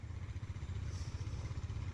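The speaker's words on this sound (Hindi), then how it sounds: "दो तीन बाइक्स हैं" Two or three motorbikes with new hand guards ride along a road on a short trip to McLeodganj, their engines giving a steady, throbbing low rumble that pulses continuously and stays fairly close.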